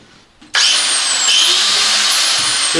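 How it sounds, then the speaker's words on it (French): An angle grinder powered from a high-voltage line near Pripyat switches on after a short quiet moment and spins up to a loud, steady, high-pitched whine that holds close by without a break. "Je peux allumer meuleuse."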